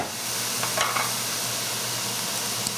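Onion frying steadily in a pan over medium heat for rutabaga and ginger soup, a continuous close sizzle with a few faint stirring clicks and scrapes.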